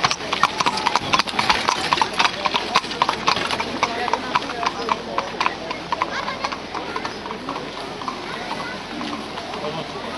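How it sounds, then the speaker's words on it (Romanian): Horses pulling a carriage in Salzburg clip-clop steadily on pavement, the hoof beats loud and rhythmic over outdoor ambience, with people talking nearby. "Am ajuns aici la trăsura cu cai."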